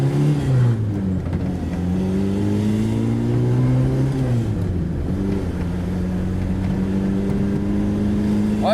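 Fiat car running on alcohol fuel with a five-speed gearbox, driven on the road; the engine drones steadily close by, its pitch climbing and dropping as it revs through the gears, with no talking.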